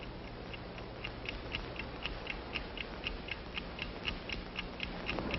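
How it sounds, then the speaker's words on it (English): A Hobart gold finder device, a prospecting gadget that signals nearby precious metal, gives off a steady, rapid mechanical ticking, evenly spaced and moderately quiet over a faint background hum throughout. "You hear that ticking? You hear it? That is the signal that the precious metal is near."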